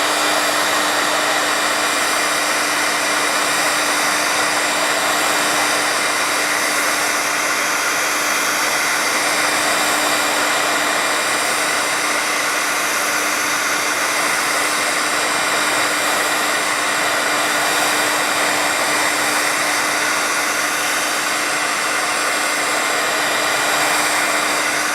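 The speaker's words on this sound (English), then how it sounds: "I'm just going to hit it with my heat tool because I want to make sure that the ink is completely dry" A heat tool drying freshly stamped ink on a papercraft project blows a steady, loud, unbroken whoosh with a faint tonal hum, running alone for the whole stretch.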